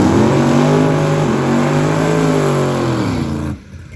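A drag racing car on slick tires launches its pass at a drag-and-drive event, the engine roaring loud and close with a rising, harmonic-rich note that holds for several seconds before cutting away abruptly.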